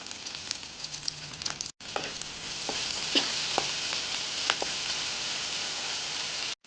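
Large shallots sautéing in oil in a pan for a chicken parts stir-fry, giving a continuous close sizzle with scattered sharp pops and crackles and a brief break partway through.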